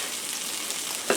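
A mac and cheese pancake fries in a pan with a soft, steady sizzle, close and fairly quiet, ending in a brief scrape.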